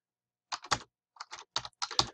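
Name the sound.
typing answers on a computer keyboard in a Quizlet game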